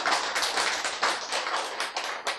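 A crowd bursts into steady, dense clapping during a lecture on faith, a continuous patter of many hands close by with no voices over it.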